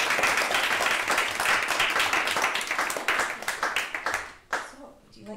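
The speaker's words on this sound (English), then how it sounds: "Everyone give a nice warm round of applause for Asaf." An audience gives a warm round of applause for a performer named Asaf: brisk, dense clapping close by that thins into scattered claps and dies away near the end as someone starts talking.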